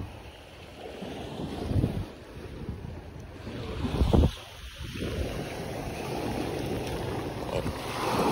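Wind buffets the microphone over the steady wash of sea waves and a boat moving through water off Quezon, Philippines, with a louder gust or splash midway.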